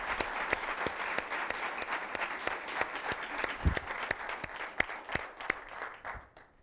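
An audience at a university event applauds in a sparse, irregular patter of individual claps that thins out toward the end.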